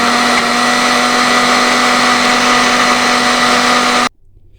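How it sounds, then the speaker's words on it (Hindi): An electric grinder jug whirs loudly and steadily as it grinds soaked lentils for bhalla batter, running alone for about four seconds before switching off abruptly. "जग में डाल को इसको अच्छी तरह हम ग्राइंड करेंगे। ग्राइंडर चला देंगे अब।"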